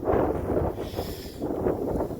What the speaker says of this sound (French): Il y a quand même beaucoup de vent.